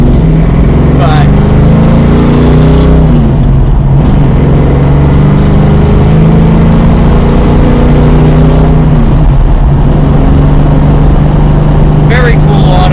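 Dodge Charger Rallye hot rod with sway bars and F70 14 tires rumbling steadily while driving, a low continuous engine hum beneath a person talking throughout.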